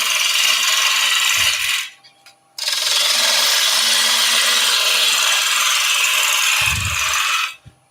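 Wood lathe turning the outside edge of a wooden platter, a steady broadband scraping rasp of the tool cutting the spinning timber, close and loud, broken by a short pause near the middle and stopping near the end.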